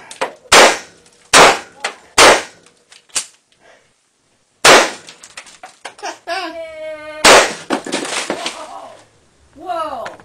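Sharp, loud gunshots strike a laptop in a run of single reports with pauses between them, and people's voices and exclamations break in between the shots.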